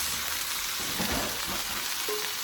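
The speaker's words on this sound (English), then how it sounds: "So I am gonna pop the potatoes in." Potatoes frying in a pan for a chicken and potatoes Dijon cream dish, a soft continuous sizzle with faint crackles and a light clink, fairly quiet and steady throughout.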